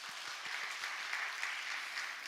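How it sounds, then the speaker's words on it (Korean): A church congregation applauds steadily at a Sunday service, a dense wash of clapping that holds at an even level throughout. "우리 한번 박수로 한번 마무리하도록 하겠습니다"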